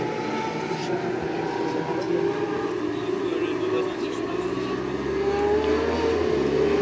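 Yamaha R6 600cc racing motorcycles pass on the track during a race at Nogaro, their engines droning in a steady, rising whine that grows louder toward the end, while spectators talk nearby.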